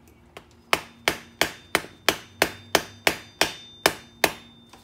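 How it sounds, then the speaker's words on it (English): Hammer blows on a chisel worked around a seized ABS wheel sensor on a Lexus IS 250/350, eleven sharp metallic strikes at a steady pace of about three per second, close and loud with ringing decays. "I'm going to go all the way around and chisel it."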